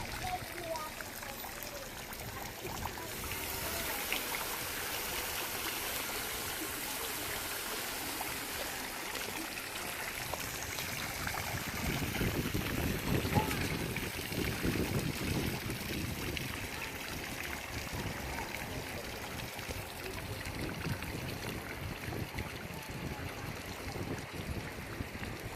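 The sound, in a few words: water splashing in the Orange Circle fountain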